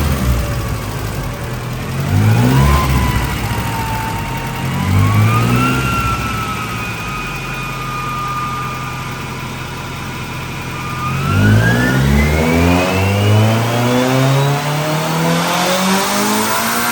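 A turbocharged Isuzu Trooper engine revs on a dyno, climbing steadily in pitch through a long sweep, holding near the top, then winding up again in a second loud, close pull.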